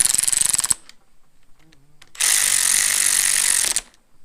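A ratchet wrench snugging bolts on the 2.5 engine of a 2008 Subaru Impreza, rapid clicking for under a second, then a pause and a longer, louder stretch of fast ratcheting, close by.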